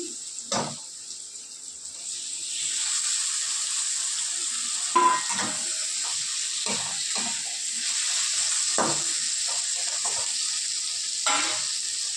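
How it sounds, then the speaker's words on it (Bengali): Chopped tomatoes hit fried onions in a hot pan, setting off a steady, close sizzle that runs throughout, with occasional stirring clatters and spoon knocks. "দেখো পেঁয়াজটা ভাজা ভাজা হয়ে গেছে। এবার আমি টমেটো দিয়ে দেবো"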